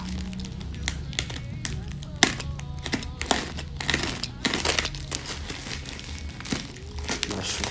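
A box cutter slices open the packaging of a pair of Predator Edge football boots, with close crinkling, scraping and sharp tapping as plastic and cardboard are cut and handled.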